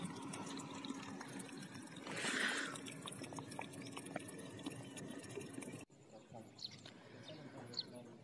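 Water from a borewell pours steadily into a storage tank at a rural site with a camel cart, a continuous rushing fill under outdoor ambience with birds calling, briefly louder partway through before cutting to a quieter stretch.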